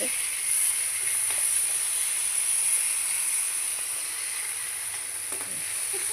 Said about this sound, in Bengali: কয়টা কারি পাতা ধুয়ে আনিছি, তো এইটিও ভাজুম এখন